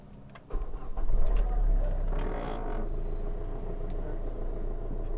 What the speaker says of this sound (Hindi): चलिए गाड़ी को चालू करता हूँ एंड आप देखिए कि डीजल का साउंड कैसा है।